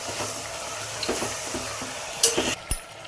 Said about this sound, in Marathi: वटाणा फ्लावर बटाटा आपण टाकून घेऊया मिक्स करून घेऊया एकजीव करून घेऊया